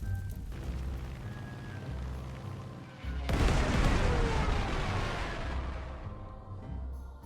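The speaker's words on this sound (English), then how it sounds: "I think we're gonna hit that anti-tank over here with a Stuka." A Stuka dive-bomber strikes an anti-tank gun in the wartime strategy game Panzer Corps 2, a deep booming explosion that erupts midway and rumbles on loudly for several seconds before fading.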